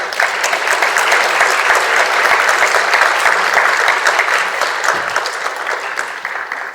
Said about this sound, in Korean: 여러분의 뜨거운 박수로 맞이하겠습니다